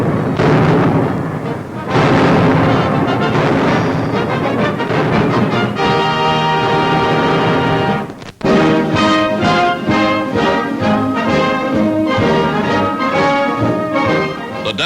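Artillery fire on Guadalcanal in 1942, heavy booming blasts in repeated bursts, loud and continuous with dense rumbling echoes and no talk.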